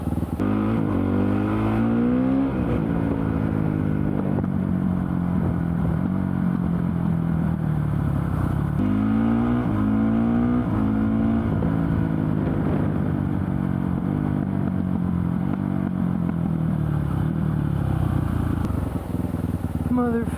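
Busy road traffic heard from a Honda CRF450 supermoto in town near a roundabout and school crossing, engine drone rising and falling with revs over passing vehicles and wind, loud and continuous.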